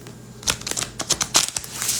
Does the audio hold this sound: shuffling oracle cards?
yes